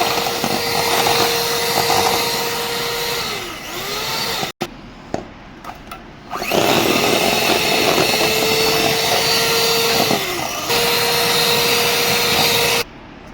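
Electric mixer machine blending milk powder and cream powder for homemade chocolate ice cream, a loud continuous motor whine with a brief stop around the middle, then restarting at full speed, close and alone.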